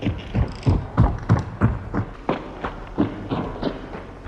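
Rapid footsteps in the video game Hunt: Showdown thud in a quick, regular rhythm of about a dozen steps, close and distinct, with no talk over them.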